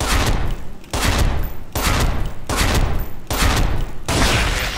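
Bursts of automatic gunfire from an AUG A3 rifle in the video game Special Force 2, loud, close, rapid fire in about five sustained volleys separated by short pauses, with no talking.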